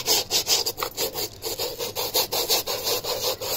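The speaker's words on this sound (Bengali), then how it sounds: "এখন এটাকে আগে ব্রাশ দিয়ে এই সাইডগুলো করে দিচ্ছি" A brush scrubs the sides of a foot in quick, rhythmic back-and-forth strokes, close and crisp, about four rasping passes per second with no talking.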